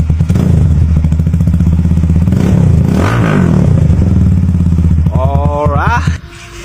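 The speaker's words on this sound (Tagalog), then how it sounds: "narinig nyo naman guys yung tunog nito, napakaganda no. Yoshimura Alpha for Motorstar Explorer 250" A Yoshimura Alpha full carbon exhaust with the silencer removed on a Motorstar Explorer 250 roars loudly up close, holding a rough, pulsing rev for several seconds before dropping off sharply, with a voice briefly heard near the end.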